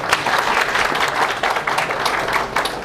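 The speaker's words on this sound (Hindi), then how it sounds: "धन्यवाद तालियां बजाने के लिए" Steady applause from a crowd, many hands clapping continuously for a few seconds, fairly close and even in volume.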